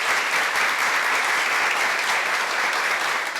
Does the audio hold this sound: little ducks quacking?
no